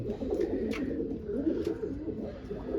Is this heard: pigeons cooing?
yes